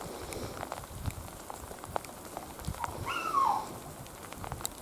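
Rain patters steadily on a surface amid melting snow, a dense, even hiss of drops, with a brief whining call, a dog, partway through.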